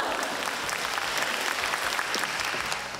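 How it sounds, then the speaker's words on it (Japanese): A live comedy show audience in Uehonmachi claps steadily, a dense, moderately loud wash of many hands lasting the whole moment without pause. "拍手が出るようになったって。"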